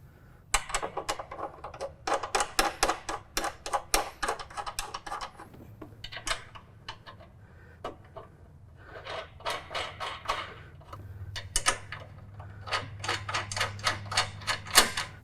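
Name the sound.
socket and ratchet tightening nuts on mower canopy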